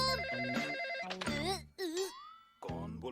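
A cartoon telephone rings in bright, repeated electronic warbling bursts with a sliding tone in between, loud and close, in a Hindi-dubbed animated scene.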